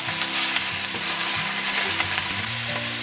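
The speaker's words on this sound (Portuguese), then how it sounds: "Eu gosto de fritar um pouquinho o alho poró, o gengibre e o alho" Leek, ginger and garlic fry in a pan with a dense, continuous sizzle and crackle, steady and close throughout, mixed with faint stirring sounds and no voices.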